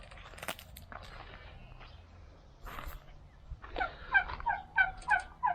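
A turkey caught in a sheep net on a village farm gobbles repeatedly in quick bursts, fairly close, with scattered rustling and faint background noise before the calls.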